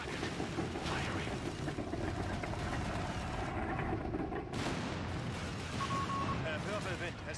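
Artillery fire in the Company of Heroes 3 video game, with dense, rumbling battle noise and heavy booming blasts rolling on throughout, with soldiers' voices calling out beneath the din.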